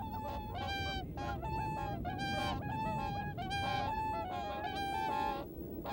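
Swans call on a river delta with sandy tidal flats, a dense chorus of ringing, honking notes that repeat and overlap throughout, loud and close.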